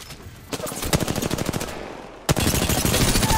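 Rapid, loud bursts of automatic gunfire from a fast-shooting weapon in Apex Legends, a dense stream of shots that pauses briefly and then resumes in a second sustained burst, close and alone without talk.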